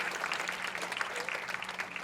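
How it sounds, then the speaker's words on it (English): Audience applause fills a hall at an assistive technology award ceremony as nominees are announced, a steady even clapping throughout at moderate distance, slightly faint. "So can we have a huge round of applause for the nominations of..."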